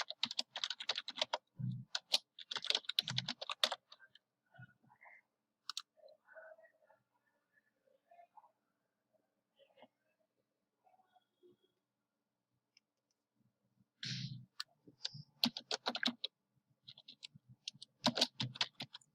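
Computer keyboard typing in bursts of rapid clicks, with a long quiet pause of sparse keystrokes in the middle before another flurry, close and clear with no talking, as Google account credentials are entered.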